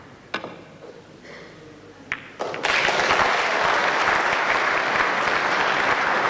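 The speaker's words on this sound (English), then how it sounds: "a great roar of applause" A snooker crowd at a doubles match bursts into a great roar of applause after a few sharp clicks of balls, the clapping loud, dense and sustained to the end.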